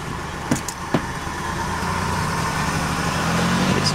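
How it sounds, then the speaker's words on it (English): A 1997 Buick LeSabre engine idles high after a cold start, a steady rising drone that settles into a continuous hum, with a couple of brief clicks near the start and no talking. "She's going into high idle."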